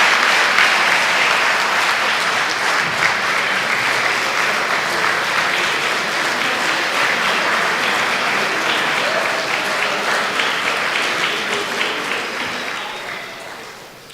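Sustained applause from a press-conference audience, loud and continuous for about twelve seconds before tapering off at the end, with no speech over it.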